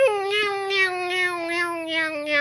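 A cat meows in a children's story, one long, drawn-out wavering call held close and loud, with no speech over it.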